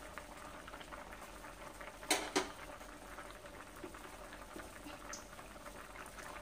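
Red lentil dal boiling in a pot, a faint, steady bubbling simmer broken by two brief louder knocks partway through.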